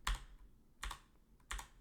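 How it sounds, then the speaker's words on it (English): Three short bursts of keystrokes on a computer keyboard while entering a grep command, each quick cluster of clicks spaced well apart, fairly close and quiet, with no voices. "So we'll type"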